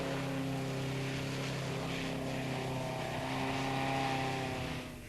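An airboat's engine and propeller drone steadily as the flat-hulled craft runs over ice on the St. Lawrence River in Ontario, a loud, close, continuous roar with a slight swell before it fades at the end.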